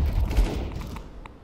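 Gunfire in the shooter game Overwatch, a dense burst of shots and thumps that fades into a busy low rumble, with a couple of brief sharp cracks near the end.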